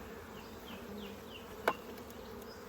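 A honeybee colony in an open hive, a busy, low steady hum of many bees with individual insects buzzing past close by, fairly faint overall, with one sharp click partway through.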